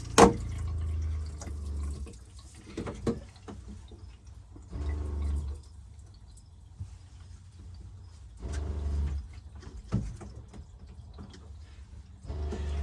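A newly replaced RV bathroom sink and shower faucet lets water trickle, a quiet, faint flow broken by a few brief louder splashy surges, heard alone without talking.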